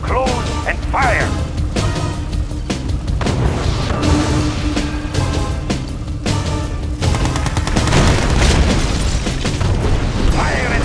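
Naval ships fire artillery in the real-time strategy game Red Alert 2: Yuri's Revenge, with repeated loud booms and bursts over continuous battle noise, plus short game voice responses from the units.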